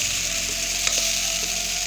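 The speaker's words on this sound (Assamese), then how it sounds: "তাৰপিছত মই কচুখিনি এতিয়া ভাজিম" Chunks of taro sizzle steadily in hot oil in a pan, a close, continuous crackling hiss with a few faint stirring clicks.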